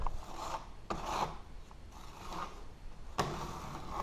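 Joint compound being forced into a wide wall crack with a 6-inch drywall blade, scraping and rasping in repeated strokes with sharp onsets as the blade drags across the wall, close and moderately loud.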